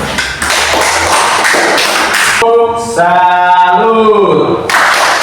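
Applause for group 1 in a classroom session: a burst of dense clapping for about two seconds, then a group of voices chanting in rhythm over fading claps.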